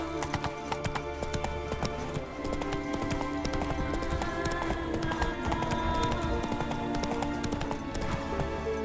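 Roach the horse gallops in The Witcher 3 video game: steady rapid hoofbeats in a continuous clip-clop rhythm under a constant layer of game ambience and music, with a brief whinny.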